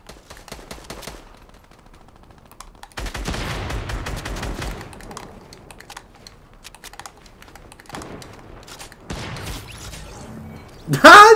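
Sniper shot and rapid gunfire in the video game Fortnite, loud bursts of game weapon fire mixed with busy keyboard clatter, ending in a sharp loud crack.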